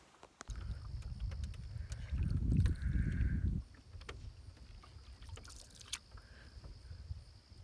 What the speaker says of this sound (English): Paddling straight towards that rock face